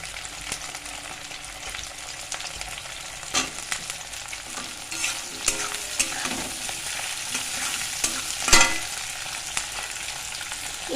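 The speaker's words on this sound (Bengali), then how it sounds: "তারপরে নেড়ে চেড়ে দিয়ে দেবো ক্যাপসিকাম" Capsicum sizzles in a pan for chilli chicken while a spoon stirs it, making a steady frying hiss broken by a few sharp scrapes and clatters, close and with no voices.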